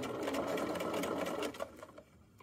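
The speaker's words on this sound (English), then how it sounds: "I'm going to back stitch and continue forward" A sewing machine back stitches the bottom seam of a fanny pack with a fast steady mechanical whir that stops abruptly about two-thirds through, leaving a few faint clicks and near silence.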